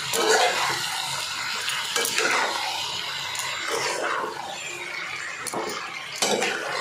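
Food stirred and mixed in a pan, a spoon scraping and clinking against the metal in repeated strokes, close and moderately quiet, with faint background sizzle.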